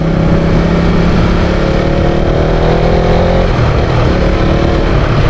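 Loud, close motorcycle engine revving steadily as the rider shifts smoothly into second gear with rev matching, the tone dipping briefly at the change before carrying on.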